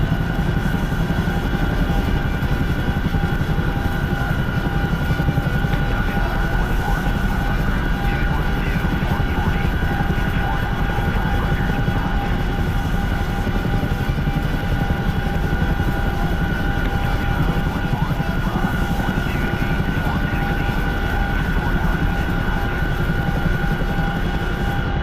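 The twin-rotor engine of a Chinook helicopter in a combat video game drones on at steady, unbroken loudness, with a continuous turbine whine and rotor hum layered over a low rumble, no speech.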